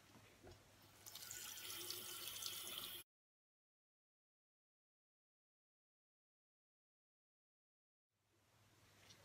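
Tap water running while stitched shibori-dyed fabric is rinsed, a steady close hiss and splash for about three seconds, then silence, then the flow starting again near the end.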